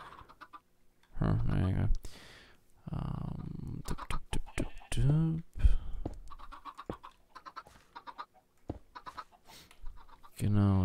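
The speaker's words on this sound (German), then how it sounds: "Irgendein Hühnchen stirbt gerade." A chicken dies in Minecraft, giving short clucking and squawking hurt sounds. Keyboard clicks and a voice are heard alongside.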